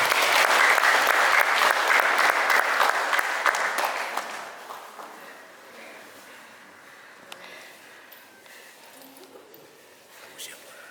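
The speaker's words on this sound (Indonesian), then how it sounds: "Tepuk tangan untuk Tuhan Yesus." Strong applause from a congregation at a prayer garden worship service starts loud and dense, then fades after about four seconds into softer scattered claps under quiet voices.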